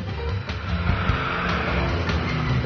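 A classic Audi drives through hop-growing countryside on a vintage rally, its engine a steady close drone with a slight rise and fall throughout, no voices.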